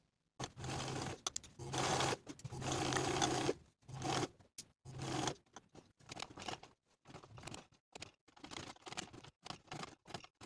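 A sewing machine stitches trouser fabric in several bursts, starting and stopping, then gives way to shorter, choppy whirs and clicks nearby.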